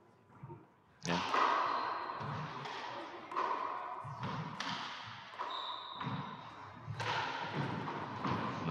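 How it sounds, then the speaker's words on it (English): A rubber handball strikes the walls and ceiling of an indoor court during a women's Gaelic handball final. Loud, reverberant thuds and slaps land at irregular intervals, with faint movement noise between them. "Nice ceiling shot there from Martina."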